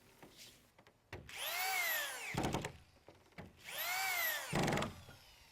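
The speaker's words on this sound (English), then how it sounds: "Attach the deck plywood to the top deck support stud using several 1-inch screws" A power drill drives screws into plywood decking on a halfpipe build, two whining bursts with rising pitch, each ending in a rough grinding seat of the screw, close and loud.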